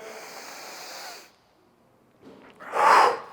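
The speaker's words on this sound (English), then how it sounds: "that deep inhale through the nose is going to generate intra-abdominal pressure" A deep breath drawn through the nose while doing a reverse lunge: one soft airy inhale, a brief pause, then a louder, sharper sniffing rush of air close to the microphone, with no talk.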